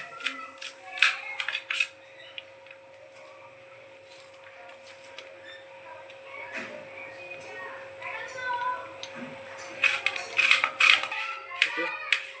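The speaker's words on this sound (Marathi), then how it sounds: "बारीक चिरून घ्यायचा आपल्याला कांदा" A knife finely chops onion on a board in a home kitchen, giving faint, quick clicking taps in short clusters beneath steady talking.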